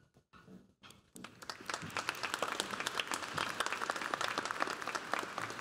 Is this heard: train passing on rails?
no